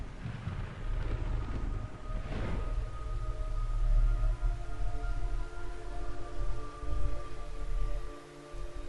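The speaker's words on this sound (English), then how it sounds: "It's raining blood." Rain falls steadily in the Metal Gear Solid 3 video game, a continuous soft hiss with low rumbling beneath and faint sustained tonal hums, and no speech.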